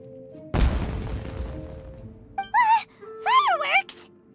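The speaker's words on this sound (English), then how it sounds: "It sounded like fireworks." Fireworks in the video game Genshin Impact go off as one sharp, loud boom that fades over about a second, followed by short vocal exclamations.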